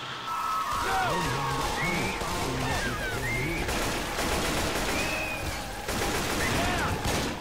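Rapid gunfire rattles in the video game Left 4 Dead 2 as a player shoots a witch, with dense bursts of shots and game effects continuing under sporadic voices.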